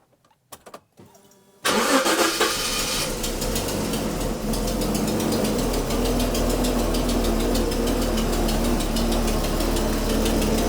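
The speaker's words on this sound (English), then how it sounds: "let's actually fire it up and let you guys hear just how badly it runs" A Jaguar engine with a suspected blown head gasket cranks and catches after a few faint clicks, then idles loud, rough and uneven with a knocking, labored note that never smooths out.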